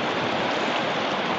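Water runs steadily to waste at a small stream or channel suited to a micro-turbine, a dense, loud, continuous rushing wash with no pauses and no voices.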